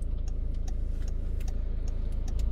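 A car's turn signal indicator ticks in a steady, even rhythm inside the cabin while driving in Finland, with low engine and road hum underneath and no talk.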